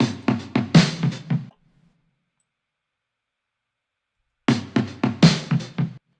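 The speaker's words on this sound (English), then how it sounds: "If you remember what we did with the conga sounding drums there" Conga-sounding drums play a live-style fill in a hybrid boom bap and trap beat, two quick bursts of about six punchy, resonant hits separated by a long silent gap.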